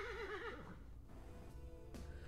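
A horse gives a short wavering neigh at the start, its whinny trilling briefly before fading into quiet background.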